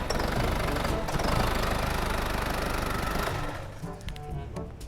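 An Isuzu D-Max diesel engine with hard starting and a stumbling idle runs loud and steady with a knocking rhythm, then shuts off near the end, leaving faint rattles and ticks.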